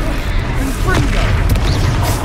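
An explosion from the Confringo spell in a Harry Potter-style video game, a loud booming blast that sits under continuous game music and effects for the whole stretch, with a voice talking over it.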